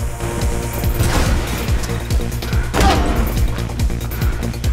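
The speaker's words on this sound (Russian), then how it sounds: "Я слышу выстрелы" Gunfire in the video game Mirror's Edge: a dense volley of sharp cracks and thumps, some layered with crashing impacts, runs loud and continuous throughout over a low rumbling backdrop.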